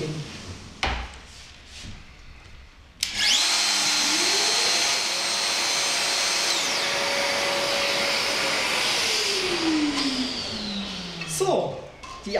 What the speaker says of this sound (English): The swivel unit is lowered and clamped again. The cutting is repeated once more.